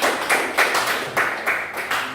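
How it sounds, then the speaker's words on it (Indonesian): Applause for a student group in a classroom guidance session, a brief burst of dense clapping from the class that swells in rhythmic waves, close and moderately loud, with no talking over it. "Berikan aplaus bagi kelompok 3."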